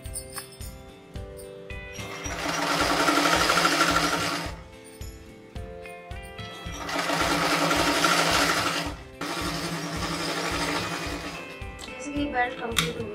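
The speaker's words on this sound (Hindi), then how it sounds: "इसी तरह हम राउंड में स्टिचिंग डालेंगे।" A sewing machine stitches a round belt joint on a khajoori salwar in loud, steady bursts of rapid needle chatter, with pauses between runs.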